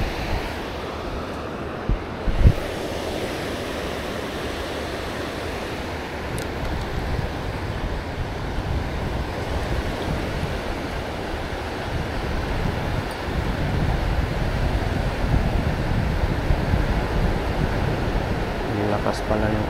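Strong ocean waves break steadily along the shore where someone is fishing. The surf is a continuous loud wash that builds toward the end, with wind noise on the microphone.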